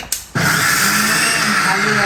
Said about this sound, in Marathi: डाळ छान ग्राइंड करून घेते पाणी न टाकता एकदम घट्ट